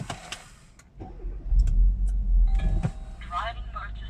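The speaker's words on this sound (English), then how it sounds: "okay, and I start the engine." A 2017 Hyundai Tucson engine cranks and catches, a low rumble rising near the start and settling into a steady idle while stationary, with brief clicks and faint voices around it.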